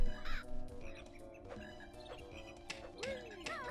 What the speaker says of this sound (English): That bird reacted to your joke.